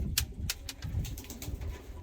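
Young pigeons cooing softly and close by, with sharp scratchy clicks and shuffles from the birds moving about, no voices.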